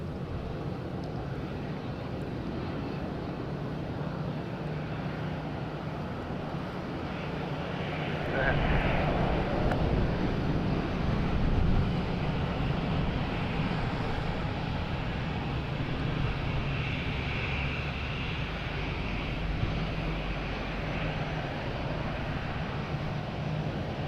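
An EasyJet airliner at Madeira airport gives a distant, sustained engine rumble that grows louder for several seconds near the middle before easing back, with talk over it.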